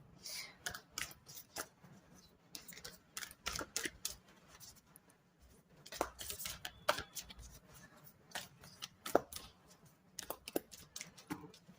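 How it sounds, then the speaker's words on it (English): Tarot cards being shuffled by hand, a run of quick riffling bursts and soft flicks spread across the stretch, close and fairly quiet with brief pauses between. "Notice I shuffle so much in your reading."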